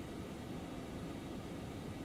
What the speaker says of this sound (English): So the aeroplane's pressurizing